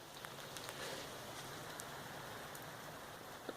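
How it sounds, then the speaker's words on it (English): Steady outdoor rain pours down in a constant broadband hiss, with scattered droplets pattering close by over the full stretch, no voices present. "It's fucking raining."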